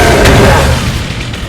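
A plasma pistol firing a triple burst in the sci-fi shooter game Eternal Crusade: a loud, booming energy blast that hits hard at the start and rolls off into a fading rumble, heard alone at close range.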